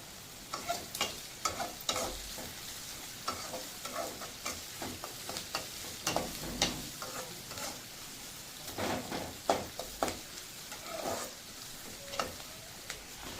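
Chopped onions sauté in a pan for a carrot and beans stir-fry, giving a soft sizzle under repeated scraping stirs of a spoon against the pan, moderately quiet and fairly close, with no talking.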